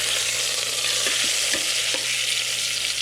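Chicken skin sears in a hot pan for chicken and dumplings, giving a steady, close sizzle with a few soft stirring scrapes and light pops, and no one speaking.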